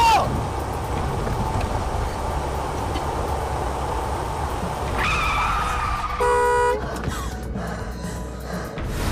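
A car of the same make, model and year as a crash vehicle loses its brakes during a test run. Its engine rumbles steadily, then a shrill tire squeal rises near the end and cuts off abruptly.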